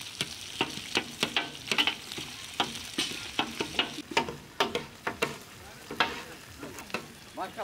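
Snakehead (taki) fish fries in a pan while being broken apart with a spatula: a steady oil sizzle punctuated by sharp, irregular scraping and tapping strokes, close and clear, with no talking.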